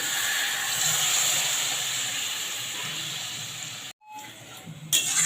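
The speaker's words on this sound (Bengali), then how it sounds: "এবারে দিয়ে দিচ্ছি পরিমাণ মতো জল" Water is poured into a hot pan of egg and pointed gourd in poppy-seed paste, raising a loud, steady steaming hiss that cuts out briefly and then resumes more faintly.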